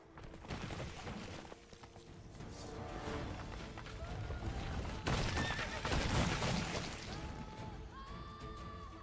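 Roach the horse in Witcher 3 gives a whinny amid a dense, busy game soundscape with combat-like crashes and hoofbeats, the neigh moderately loud and partly masked.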